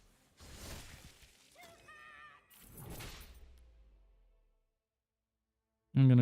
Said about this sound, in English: Maybe it's meant to sound like blood splattering and splashing and bones shattering, and that's why there's a splashing and the shattering sound.